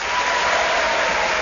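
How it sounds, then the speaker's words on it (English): Studio audience applause on the panel game Just A Minute, a steady, even wash of clapping from a crowd, fairly close and sustained throughout with no voices over it. "Getting a round of applause for each one of them, aren't I?"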